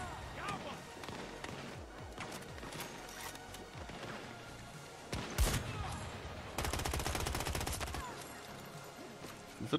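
Pistol gunfire in a video game, shots from a small handgun. Sharp shots pop at irregular intervals, then give way to a denser burst of rapid fire near the end, under game noise and a quiet voice.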